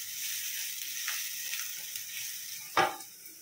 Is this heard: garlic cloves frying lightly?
yes